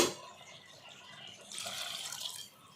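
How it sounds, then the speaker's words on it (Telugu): Water is poured into a pan of cauliflower curry after the spices are fried in oil, making a faint, brief splashing gush midway through a quiet background. "మొత్తం ఆయిల్ అంతా ఈ విధంగా వేయించుకొని ఇప్పుడు నీళ్ళు పోసుకోవాలి."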